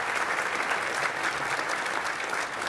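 Sustained applause from a large audience at an awards gala dinner, steady and dense clapping throughout without pause.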